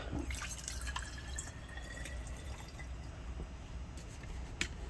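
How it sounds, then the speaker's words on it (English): Half a cup of water is poured into a container for a homemade mouth rinse, a faint, close trickle with soft drips and small splashes in a quiet room. "So I've got the water. I'm just doing a half a cup."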